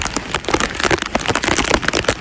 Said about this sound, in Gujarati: મેં વરસાદ પણ સારો પડે છે